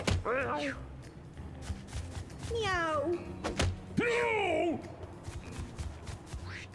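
A few drawn-out cat meows from the video game Mewgenics rise and fall among thumps and clicks, two or three distinct calls at moderate loudness.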